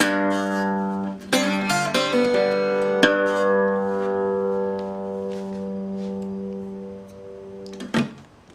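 Guitar plays a riff, a few plucked notes and strums ringing out, then the thumb sounds the open fifth string, letting it sustain and fade before a final brief strike; close and alone.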